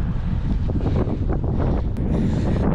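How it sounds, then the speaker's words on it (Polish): Strong wind gusts buffeting the microphone outdoors, a dense low roaring rumble that swells and fades unevenly, loud and close for the whole short stretch. "Szkoda tylko, że taka wichura jest, bo w tych krzakach fajniej było, bo nie wiało."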